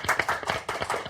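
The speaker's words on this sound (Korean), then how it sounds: "박수로 환영하겠습니다" Audience applause at a Korean roundtable panel welcoming a panelist, a short burst of brisk, fairly quiet clapping from several people.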